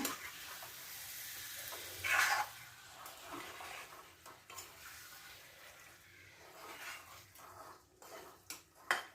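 Liver roast stirred in a pan with coarsely ground black pepper; soft sizzling with intermittent scraping and stirring strokes, fairly faint, with a couple of louder clatters.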